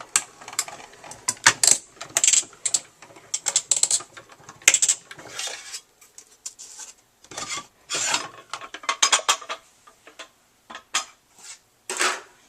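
A die-cutting machine pressing a cutting plate and card through its rollers, heard as close, dry rasping and grinding in uneven bursts with short pauses between passes.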